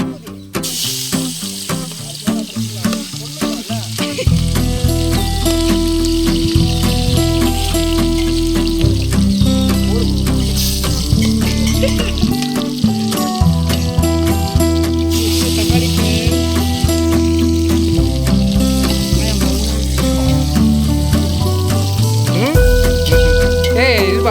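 Onions frying in oil for biryani give off a steady, hissing sizzle beneath loud background music throughout.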